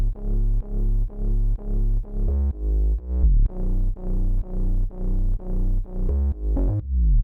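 Two layered synth sub basses, one pitch-bent, play a steady repeating pattern of deep, loud, pulsing notes with occasional downward swoops, continuous and alone without any voice.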